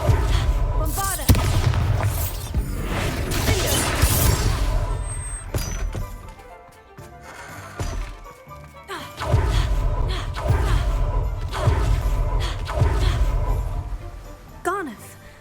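Blasting spell explosions in the Hogwarts Legacy video game: heavy booms and crashing thuds go off repeatedly and loudly, with voices and game sound layered throughout.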